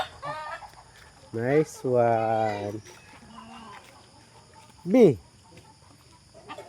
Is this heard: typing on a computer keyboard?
no